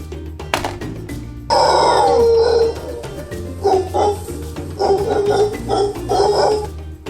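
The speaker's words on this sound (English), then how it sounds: "Howler monkey." Howler monkey howling: loud, sustained guttural roars that rise and fall in several long waves over a low, steady background.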